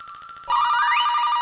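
A phone rings close by, a steady electronic tone that switches to a rising melodic ringtone partway through, clear and alone.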